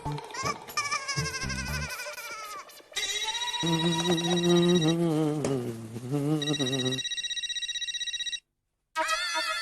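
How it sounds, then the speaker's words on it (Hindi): A telephone rings in repeated electronic bursts, close and loud, the tone pattern shifting between rings, with a brief dropout near the end before the ringing resumes. "अरे देवा, जेठालाल का फोन।"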